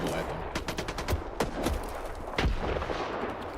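Grenades thrown and bursting in the S.T.A.L.K.E.R. 2 video game, a fast run of loud, sharp blasts and gunfire cracking one after another with echoing tails, under faint talk.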